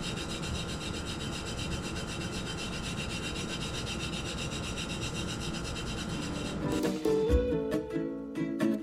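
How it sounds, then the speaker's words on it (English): Hands rubbing holographic glitter into the coated surface of a tumbler, a close, continuous dry scratching rub with a few sharper scrapes and taps near the end. "Now we're just gonna rub in all of these glitters and get the holographic to appear."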